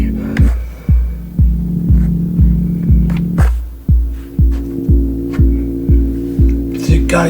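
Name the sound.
melodic sample looping at slower rate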